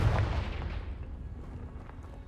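The Confringo blasting curse spell in the video game Hogwarts Legacy gives a loud, sharp explosive burst at the start, then a rumbling tail that slowly fades away.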